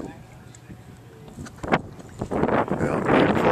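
Breezy coastal wind at Alsea Bay, a steady low rush rising into stronger gusts toward the end, with people talking faintly underneath.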